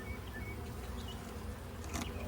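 Honey bees buzz during a hive inspection, a faint, steady hum that rises slightly in intensity, with no talking.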